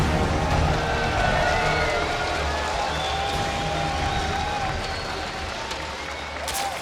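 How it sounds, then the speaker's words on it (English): A loud, sustained roar of crowd cheering mixed with applause at a StarCraft 2 esports event at IEM San Jose, filling the space evenly throughout. "Cheer as loud as you can for Captain America himself."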